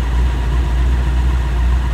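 Pickup truck engine idling outdoors, a steady low rumble with an even throb, close and loud throughout the short stretch, with no voices.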